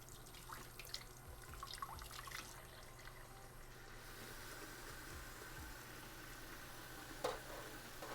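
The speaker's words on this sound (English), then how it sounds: "Soak that bowl so it doesn't get all stuck on." Water runs from a kitchen faucet into a sink to soak a noodle bowl, a faint, steady hiss with a few soft clinks and knocks and no talking.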